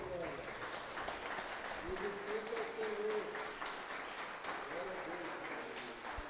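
A church congregation claps together in worship, a steady broad wash of applause with a sung or spoken tone drifting over it at moderate distance.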